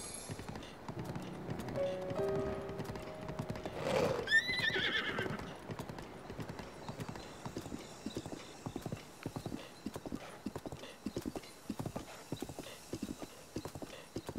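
A horse in Zelda: Breath of the Wild gallops with a steady rapid clip-clop of hooves throughout and lets out one loud whinny early on, with no talking.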